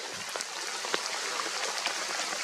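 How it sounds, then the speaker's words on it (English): Steady rain patters down, a dense wash of hiss with scattered sharper drops landing close by. "It's raining now"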